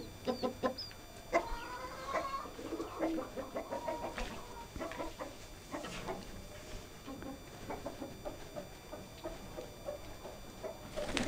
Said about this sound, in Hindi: ये मुर्गियां, मुर्गे,